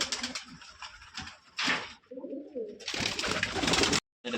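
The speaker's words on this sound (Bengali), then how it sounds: "চোখ হলুদ কবুতর, কবুতরটা না খুবই পছন্দ হলো।" Pigeons of an old yellow-eyed breed cooing in a loft, soft low murmuring calls between bursts of broadband rustling and flapping noise.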